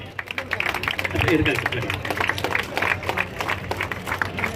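An audience applauds at a prize-giving ceremony closing a Chief Minister's Cup sports event. Steady clapping goes on throughout at moderate volume beneath a voice speaking over a loudspeaker.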